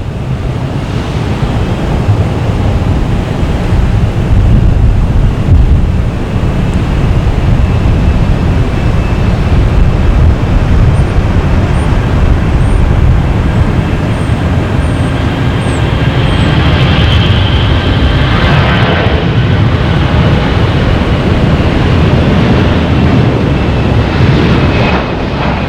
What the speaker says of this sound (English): we got Lufthansa heading back to Frankfurt. A340 300, taking runway 22 right.